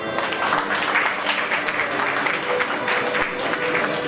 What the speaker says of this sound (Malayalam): നല്ലൊരു കയ്യടി കൊടുത്തു